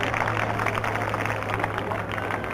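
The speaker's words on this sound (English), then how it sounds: "A big round of applause, ladies and gentlemen." Audience applause after a fencing match result, a steady wash of crowd clapping heard at moderate distance for a couple of seconds, with a faint low hum beneath.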